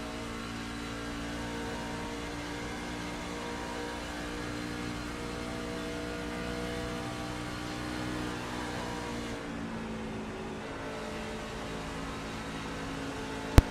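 Race truck engines at Chicagoland Speedway in iRacing, heard from the cockpit as a steady, droning engine hum with sustained tones, continuous and fairly loud with no talk.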